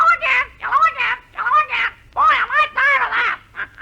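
A man on a vintage comedy radio show imitates a squawking parrot, producing a rapid run of raspy, quacking squawks close to the microphone in short bursts with brief gaps between them.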